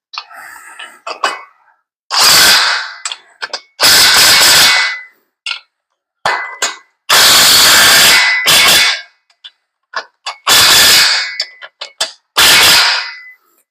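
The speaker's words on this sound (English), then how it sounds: "Let me grab a battery for the impact, and we'll just zip them right on there" A cordless impact wrench fitted with a 24 mm socket zips bolts onto a Vevor transmission jack during assembly, giving several loud, close bursts of hammering rattle separated by short pauses and small clinks.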